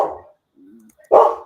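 A pet dog barks indoors during a live online show, two loud barks with a quieter muffled sound between them, close to the microphone.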